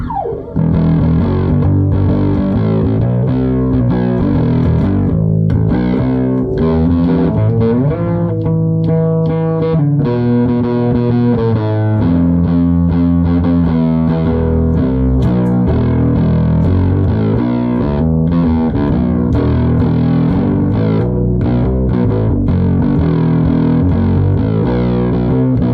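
Kramer Duke electric guitar played loud through heavy distortion and high gain, sustained chords and riffs ringing continuously with no talking.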